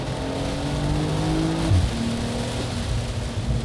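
Porsche 911 Carrera with PDK gearbox accelerating in sport mode, a steady loud engine note with a rising tone and an apparent gear change partway through, continuous for several seconds with no talking.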